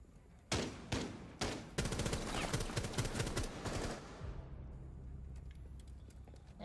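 Gunfire in a shooter video game: a few sharp separate shots, then a dense burst of rapid automatic fire that fades into quieter scattered sounds, with no talk.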